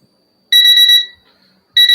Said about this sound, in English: 3-minute timer has gone off.